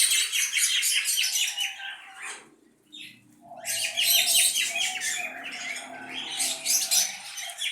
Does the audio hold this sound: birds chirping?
yes